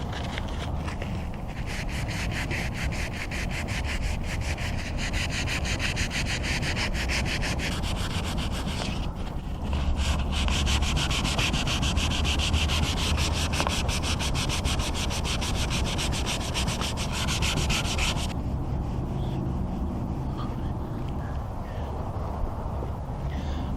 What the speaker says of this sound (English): Sand with 220 grit sandpaper.